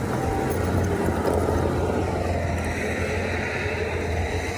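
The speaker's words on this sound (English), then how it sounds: "We've got Josiah once again in the skid steer." A Bobcat skid steer blowing snow on a residential driveway, with a continuous, loud engine roar mixed with rushing blower noise that holds steady throughout.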